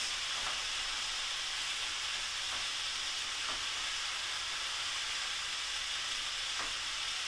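Braised pork sizzling in a pan while the meat is flipped, a steady broad hiss with a few brief scrapes or clatters as the pieces are turned, fairly quiet and without talk.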